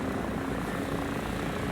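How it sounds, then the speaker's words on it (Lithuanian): A drone flying in during War Thunder gameplay, a dense, steady engine and rotor drone filling the sound evenly and loudly for the whole short stretch. "Tai turėtų būti šitas dronas."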